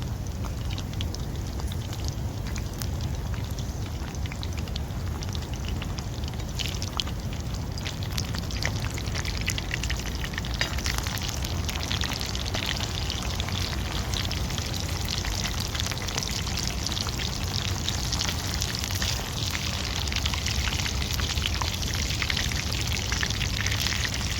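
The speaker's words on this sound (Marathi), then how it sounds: "आणि कबाबना मी चांगले फ्राय करून घेणार आहे" Chicken kebabs fry in a pan with a steady, dense sizzle and crackle that holds evenly from start to finish, with no voice over it.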